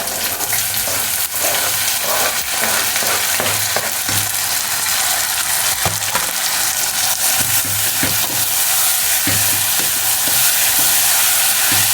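Tomatoes frying loudly in a pan, a dense, continuous sizzle with repeated scraping and clinking of a utensil as they are stirred, close up and with no talking.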